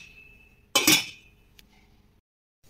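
A metal lid set onto a pressure cooker pot holding steaming dhokla batter gives one sharp clinking clatter, close and loud, then a faint tap before quiet.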